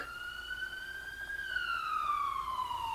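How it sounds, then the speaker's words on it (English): An ambulance siren wails steadily, a single rising and falling tone that holds loud and clear over low background rumble, with no talking. "Is that an ambulance?"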